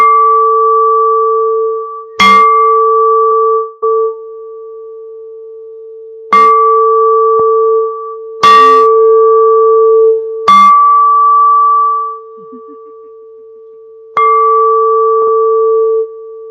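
Bells and chimes are struck about five times at uneven intervals; each strike rings out loud and clear with a long, steady, sustaining tone that slowly fades before the next hit.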